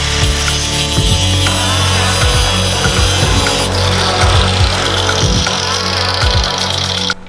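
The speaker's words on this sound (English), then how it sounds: "we'll grind a little slit in here, and hopefully we'll be able to get that out" A power grinder cuts a slit into a stuck bolt on the front clip of an E36 BMW 325is drift car, giving a loud, steady, harsh metallic whine with a few uneven chattering bumps. No talk is heard.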